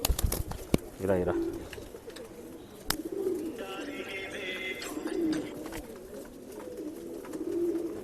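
A male Dhooma Rekdar pigeon coos in a loft, soft rolling calls repeating several times at close range over faint background noise, with a voice briefly heard.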